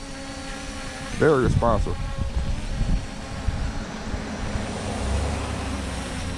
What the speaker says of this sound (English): And it's got a brushless motor, so it's gonna last you a lot longer than a brush drone will.